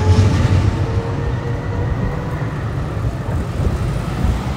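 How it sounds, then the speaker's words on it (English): An Oslo line 12 tram heading toward Majorstua passes close by on a summer street, a loud steady rumble and rolling rail noise with faint squealing tones, no talking. "Tram goes from this way to Majorstua."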